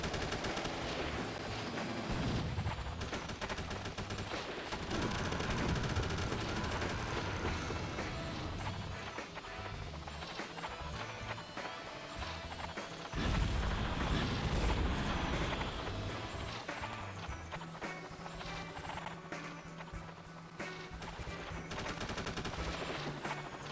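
Helicopter side gun in the Army Men Air Tactics game, rattling out long, nearly continuous bursts of rapid fire over a constant engine drone, loud and close throughout with brief swells in intensity.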